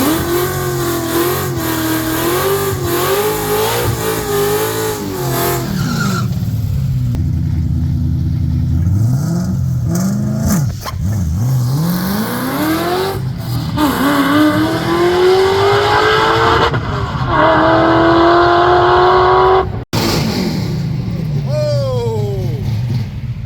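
Loud drag race car engines rev and roar on a no-prep track with rising and falling pitch sweeps, close by, with voices talking over the noise.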